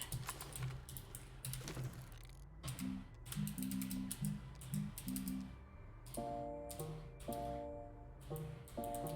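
A printer in the game Astroneer fabricating a medium printer, giving a run of mechanical clicks, ratcheting gear whirs and short rising electronic tones, fairly quiet and close, with no talk.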